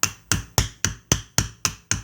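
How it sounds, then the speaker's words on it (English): Rawhide hammer tapping down a high spot on metal over a mandrel: eight sharp, evenly spaced knocks about a quarter second apart, close and clear with no talk. "And you're going to tap that spot down on your mandrel."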